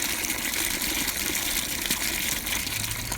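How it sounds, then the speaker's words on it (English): Fresh city water gushes steadily from a hand-cranked trailside spigot at a shelter, a continuous close, broadband rush that stays loud and even throughout with no talking. "Got to give it a few extra cranks here, several extra cranks, and you got fresh water"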